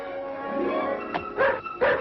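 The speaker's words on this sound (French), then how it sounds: "Quelle espèce de bon à rien de chien, ce Brutus" Brutus, a dog in an animated Tintin adventure, lets out a few short yips and barks near the end, following a stretch of background noise and a voice.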